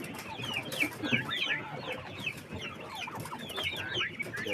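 A flock of broiler chickens and young roosters on a farm, many overlapping clucks and chirps in a busy, close chorus with an occasional louder call standing out.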